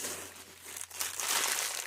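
Plastic packaging crinkles and crumples continuously during an unboxing of happy mail, a steady rustle that swells louder toward the end, close up with no talking.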